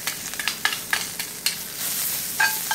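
Onions and garlic frying in a pan over slightly reduced heat alongside pan-fried pork chops, a crackling sizzle with sharp stirring clicks and taps scattered across the short stretch, no voices.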